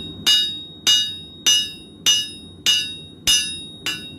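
Hammer striking hot steel while forging a chef's knife blade bevel: seven sharp, evenly spaced ringing blows about 0.6 seconds apart, loud and close with no talking.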